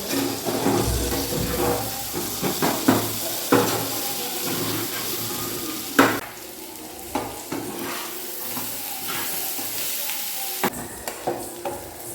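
Chicken frying in a pan on a gas stove, a steady sizzle running throughout with stirring scrapes and a few sharp utensil knocks, heard up close with no talking.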